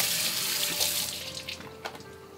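Tap water runs steadily into a sink while a frozen Boston lobster's shell and claws are scrubbed, with a few brief scraping knocks near the end and no talking.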